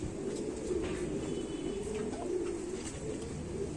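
Blue pigeons coo nearby in a continuous, soft, throaty stream, the low rolling calls overlapping without pause.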